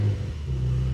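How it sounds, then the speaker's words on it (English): An 820 hp Brabus Porsche 911 Turbo S engine fires up, a deep, steady rumble that swells into a fuller idle halfway through, heard alone without voices. "So now it's time to start it up and give you a nice sound check."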